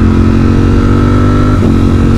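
A Ducati Streetfighter V4 motorcycle engine runs loud and close with a steady, rich harmonic drone throughout, showing a brief pitch dip and recovery near the end, with no talking.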